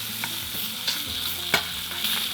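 Pork chops fry in a hot pan with a dense, steady sizzle and hiss, punctuated by a few sharp crackles and spatters over a couple of seconds, with no voices.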